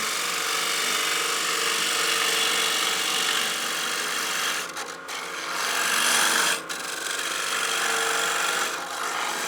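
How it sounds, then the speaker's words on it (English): A 1/4 inch bowl gouge on a 3/8 bar takes a light final cleanup shaving on a wooden bowl spinning on a lathe, giving a continuous close hiss and rasp with a couple of brief breaks. "So I'll switch over to my 1/4 inch bowl gouge. So it's a 3/8 bar. We'll take a small shaving."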